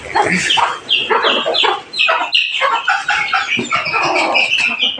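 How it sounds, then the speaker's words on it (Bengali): Desi chickens clucking and cackling loudly and close, with busy overlapping calls from several birds and a brief pause midway. "চোদ্দোটা দেশি মুরগির বাচ্চা"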